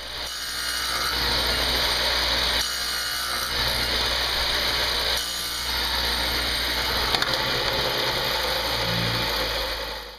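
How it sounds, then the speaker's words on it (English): A radial arm saw fitted with a dado blade cuts away the ends of wooden greenhouse struts, a loud droning whine broken by repeated grinding passes through the wood, with a few clicks near the end. "I remove some of the material from the end of each strut using a dado blade mounted in the radial arm saw"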